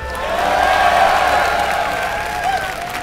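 Live crowd cheering and applauding at a StarCraft II tournament in Columbus, MLG 2011, a sustained dense roar of voices and whoops filling the hall, loud and steady for a few seconds.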